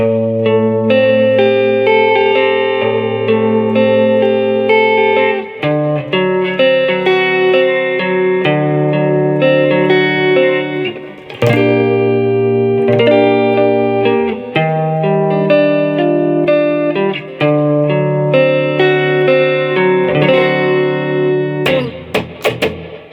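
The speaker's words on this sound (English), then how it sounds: "Measure 56 is the pre-chorus. It sounds like this." A sustained, effects-laden electric guitar passage, the pre-chorus of a live song, plays continuously, chords and arpeggiated notes ringing with a touch of reverb and chorus, loud and steady with no voice.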